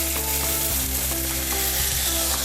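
Young carrots sizzle hard in a pan just after water is added, a loud, constant hiss and crackle with the clink and scrape of stirring, and no one speaking.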